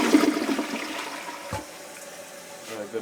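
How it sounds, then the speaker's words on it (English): A toilet flushes during a plumbing job, a rushing swirl of water that is loud at first and then fades into gurgling and trickling, while voices talk briefly in the background. "Got a good flush, but let's keep flushing."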